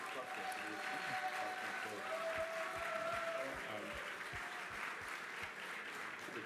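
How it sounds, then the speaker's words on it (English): A summit audience applauds the launch organizing team, with continuous crowd clapping and some talk heard faintly beneath it throughout. "they really deserve a big round of applause"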